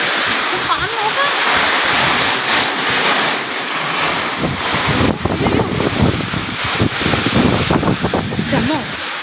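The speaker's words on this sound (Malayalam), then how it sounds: "പേടിയാവുന്ന പോലെ കാറ്റ്" Strong gusting wind roars and buffets the microphone close up, surging and easing in waves, with a person speaking over it.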